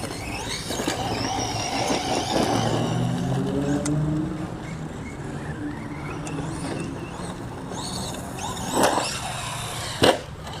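A 4-wheel-drive 1/10 scale RC monster truck drives and jumps, its small electric motor whining steadily throughout with a loud clattering thump of landing near the end.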